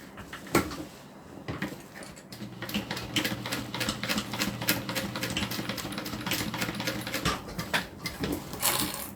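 A sewing machine stitches thread in short, quick bursts with a steady mechanical whir and rapid clicking taps, close and moderately loud, with no talking.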